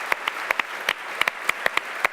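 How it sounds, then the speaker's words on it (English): A small audience claps in a sparse, uneven patter of individual hand claps, steady and moderately close, at a sailing event presentation for the America's Cup visit to Cowes. "Let's give a round of applause."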